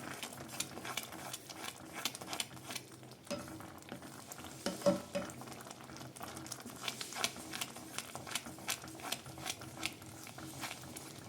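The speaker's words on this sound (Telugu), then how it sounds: "ఇలా మధ్య మధ్యలో అడగంటకుండా కలుపుకుంటూ ఉండాలన్నమాట" Flattened rice sweet pongal stirred in a pan on low heat, a soft bubbling simmer with repeated scraping spoon strokes at a quiet, even pace.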